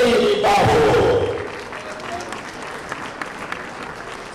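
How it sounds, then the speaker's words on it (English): Loud applause and cheering from an awards ceremony audience, with a shout rising at the start before the clapping settles into a steady, dense crowd sound that fades slightly. "Let's give a big round of applause to Anthony Bafo."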